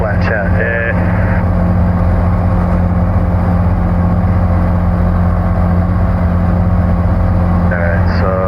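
Steady drone of a light aircraft engine settled at relaxed cruise power, flying toward Heck Field, a constant mid-low hum with a few brief tonal beeps, voices talking over it now and then.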